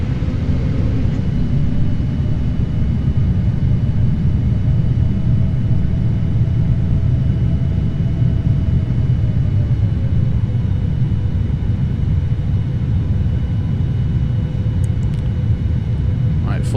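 Airplane engine noise in the Prepar3D v5.1 flight simulator: a loud, constant low rumble throughout with a faint steady tone above it and a couple of brief clicks near the end.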